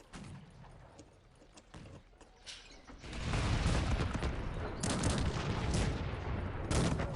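Cannons and massed gunfire in the real-time strategy game Cossacks 3 during a one-on-one match: scattered shots at first, then from about three seconds a loud, dense, continuous barrage of overlapping blasts.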